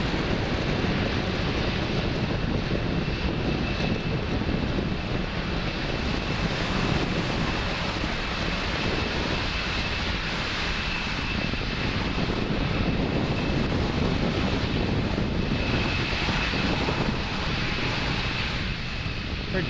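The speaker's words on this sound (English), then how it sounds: "Falcon 9 clearing the tower at Space Launch Complex 40 and making its way to orbit" A SpaceX Falcon 9 climbs away from Space Launch Complex 40 on its Merlin 1D engines, heard as a continuous distant rumbling roar with wind-like hiss, steady and unbroken, with no voices.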